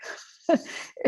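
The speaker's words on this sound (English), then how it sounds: "That's my dog snoring." A pet dog snoring indoors, close and fairly loud, giving breathy, rasping snorts in uneven bursts with no voices over them.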